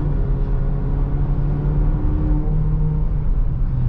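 A 2023 Haval H6 GT 4WD cruising on the road, heard from inside as a steady low engine drone and road rumble with no voices.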